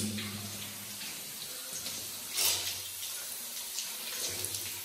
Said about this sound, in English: You hear that water? That's not somebody in here. That's the water main here broken.